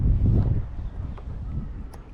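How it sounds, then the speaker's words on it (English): Strong wind gusts buffet the microphone at a fishing boat launch point, giving a loud, low, rumbling roar that fades somewhat after the first moments and then carries on more steadily. "there was just too much wind"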